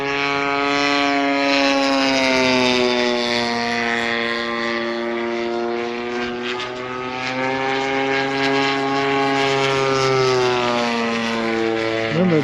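Small propeller airplane engine droning loudly and steadily through a turn, recorded from inside the cockpit on a GoPro Hero 9, with engine pitch shifting slightly, close and without talk.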